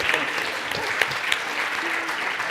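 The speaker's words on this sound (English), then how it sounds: "a round of applause for superheroes" An adult learning conference audience giving a steady round of applause, dense, even clapping filling the room for a couple of seconds with a few sharper individual claps standing out.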